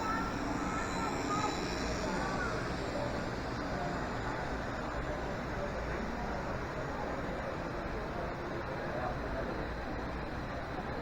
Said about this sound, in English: That train up on top is the front of the one that just went through this tunnel underneath.